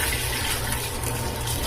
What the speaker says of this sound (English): what I'm going to do first is I'm going to dump my rice in